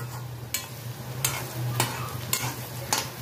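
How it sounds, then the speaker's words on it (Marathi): Onions fry in a pan under a steady low sizzle, broken by about five sharp scraping stirs of a spoon against the pan at irregular intervals, close and fairly quiet, with no voices. "बघा, कांदा आता भाजत आलेले आहे."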